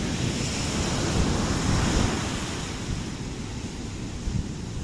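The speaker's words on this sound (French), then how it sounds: "C'est une longue plage de sable fin" Surf washing onto the long fine-sand shore of An Bang beach in Hoi An, a loud continuous wash of waves mixed with wind rumble, no voices.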